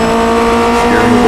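An iRacing Formula Renault at Laguna Seca braking hard with the front left tire locking: a loud, steady engine whine with a squeal rising near the end.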